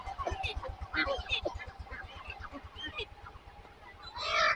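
Egg-laying hens give repeated honking clucks and squawks at close range, with bursts of agitated calls and flapping near the end.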